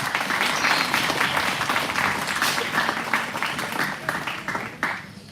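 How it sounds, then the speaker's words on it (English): Audience applause at a livestock show day, dense steady clapping from a crowd that holds for several seconds, with a few voices underneath before it thins toward the end. "So go ahead and give them a round of applause."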